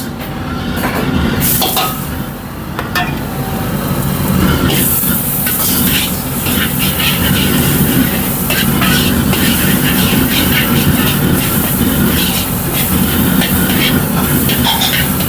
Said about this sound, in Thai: เอาไปผัดให้หอมครับ เสร็จแล้วนี่ครับ กระเทียมกับขิงนะครับ